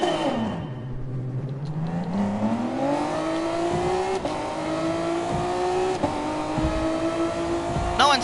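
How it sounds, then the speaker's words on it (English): A Honda NSX GT race car engine in a racing video game revs hard at the race start, its pitch climbing steadily in a loud, close drone with brief shifts along the way. "The NSX sounds great."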